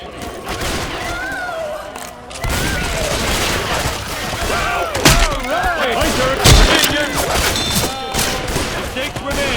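Shotgun blasts in the zombie shooter Left 4 Dead 2, a rapid volley of loud booming shots and thuds layered over busy game noise and chaotic effects, firing repeatedly throughout with heavier bursts midway.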